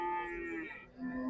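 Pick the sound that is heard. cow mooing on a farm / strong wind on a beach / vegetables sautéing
cow mooing on a farm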